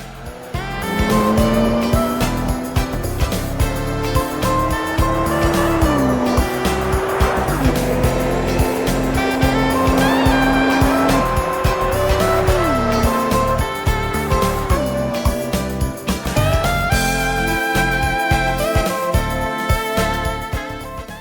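In Gran Turismo 3, a Dodge Viper GTS-R races with a loud, continuous engine note that climbs through gear changes, while tire squeal and skidding sound over a constant game soundtrack.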